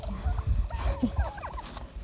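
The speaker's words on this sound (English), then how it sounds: "Hi, turkeys." Homestead turkeys near a fence, giving a few short gobbling calls over low background rumble, moderately close.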